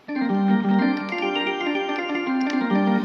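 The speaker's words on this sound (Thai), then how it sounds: "เป็นเสียงออแกนครับ" A sustained electronic organ tone from a Yamaha PSR-450 keyboard, steady chords held under a short melodic movement, fairly loud and close.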